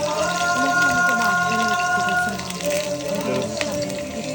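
Ginger and green chili frying in oil for ragi upma, a steady broadband sizzle throughout with a voice talking over it.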